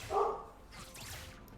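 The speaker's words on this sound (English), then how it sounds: "Barking at someone." A single dog barks once, a short loud bark at the start, then a quieter muffled tail under faint room noise, heard indoors while someone is at home.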